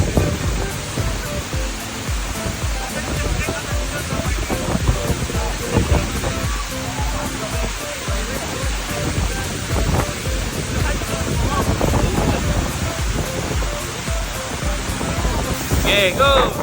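Tumalog Waterfall in Oslob, Cebu, a rainforest cascade into a wading pool, roars as a steady, dense wash of falling water close by, broadband and unbroken across the whole stretch.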